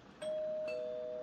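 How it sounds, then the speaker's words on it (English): A doorbell in a Grimace-themed horror game gives one clear electronic two-tone ding-dong, moderately loud, with a sustained ringing tone that lingers over a quiet background; no talking. "The doorbell has been rung."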